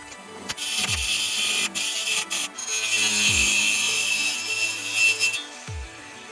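Cutting an aluminum heat shield with a power tool makes bursts of high whining grind at close range, broken by several short pauses and low clunks as the motor spins down between cuts.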